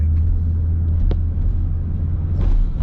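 Steady road traffic rumbles close by on a Sunday near a roundabout and Airport Drive, a continuous low drone of passing cars with no talk over it.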